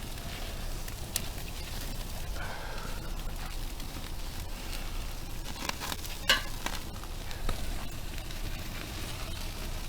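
Beef steak with butter sizzling on a charcoal grill at home, a close, steady hiss and crackle with occasional sharper pops and flare-up spits, running continuously without talk.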